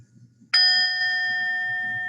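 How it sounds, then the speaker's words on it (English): A meditation chime is struck once with a bright, sudden attack, then rings on with a steady, slowly fading tone over a faint low background hum. "Let's try that a few times with the chime."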